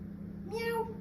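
A performer on a comedy stage imitates a cat with a single short voiced meow that rises and falls, heard over a low steady hum.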